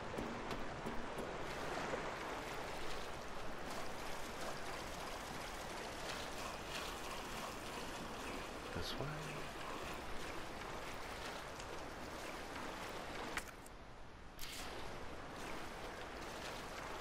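Wading through sewer water in the Resident Evil 3 Remake game, a continuous sloshing, watery churn runs steadily throughout at moderate loudness, with a brief dip near the end and no talking.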